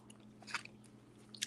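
Crunchy old chewing gum from a 1989 Bowman baseball card pack being bitten and chewed close up, a few sharp crackling crunches scattered over quiet room hum.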